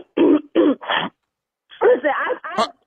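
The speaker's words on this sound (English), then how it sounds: "Did you just cough again?" Over a phone line, a person gives a few short, separate coughs and throat clears in quick succession, each a sharp burst, followed by a brief spoken voice.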